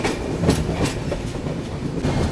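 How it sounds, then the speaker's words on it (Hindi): A train on the Konkan Railway emerges from a tunnel onto a loop line, its wagons rumbling loudly and close with rhythmic clickety-clack of wheels over rail joints, with no voices. "ये देखो बस टनल से ट्रेन अपनी निकली है और लूप लाइन पर यहाँ पर लगाया जा रहा है अपनी ट्रेन को।"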